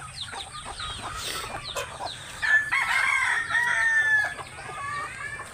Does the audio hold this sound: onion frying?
no